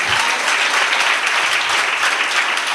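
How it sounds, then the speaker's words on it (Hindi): A crowd at a spiritual talk breaks into loud, close applause, a thick continuous wash of clapping with no voices over it. "तालियां बजा सकते हैं।"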